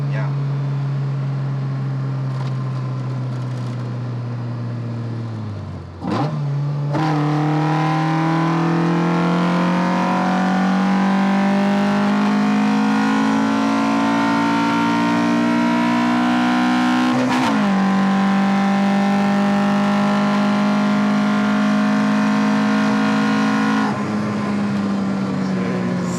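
A modified Opel Kadett Big Boss engine revs hard and holds high rpm, its tone climbing steadily in long screaming pulls with a brief drop between them, loud and close from inside the car, with faint voices underneath.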